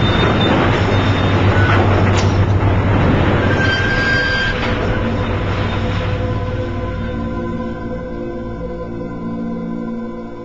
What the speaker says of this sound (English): that's the sound of a crushed automobile being shredded into a